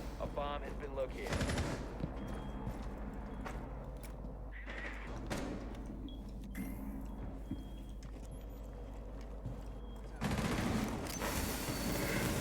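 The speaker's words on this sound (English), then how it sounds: "Veron will finally get Sammy after missing a lot of his shots" Rainbow Six Siege gunfire crackles in bursts of rapid automatic shots and single cracks during a competitive esports match, moderately loud with a sharp flurry at the end, while a caster commentates over it.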